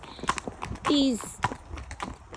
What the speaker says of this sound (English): I know that she is a horse that Kyle likes